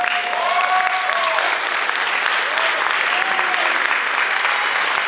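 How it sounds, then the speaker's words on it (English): A room full of people at a jazz and pop vocal concert claps continuously, a dense, even wash of applause with a few faint voices and whistles mixed in. "I have to give them their applause now"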